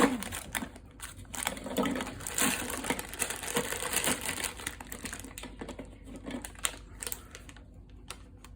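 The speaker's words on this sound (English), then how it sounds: "Just whack them in the food processor and I'll pulse those up into a crumb." Shortbread biscuits pulsed into crumbs in a food processor: uneven bursts of clattering, crunching grind up close, strongest early and thinning toward the end.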